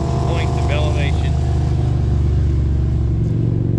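Motorcycles ride the Cherohala Skyway in the mountains, four bikes near its highest point at 5,390 feet; a steady engine rumble and wind roar run throughout, loud and close, with a voice talking over it.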